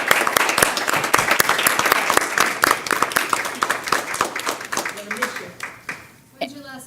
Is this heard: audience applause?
yes